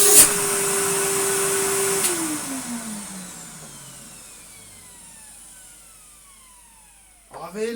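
A Henry vacuum cleaner fitted with a new replacement motor runs with a steady whine for about two seconds, then is switched off, its pitch sliding down as the motor spins to a halt. A faint clatter follows near the end.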